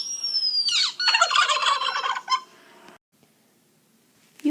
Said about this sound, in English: here's a turkey gobbling